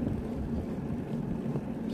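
Steady low rumble of wind buffeting the microphone outdoors on an overcast day in England during a bike ride, constant throughout with no clear gusts or other sounds.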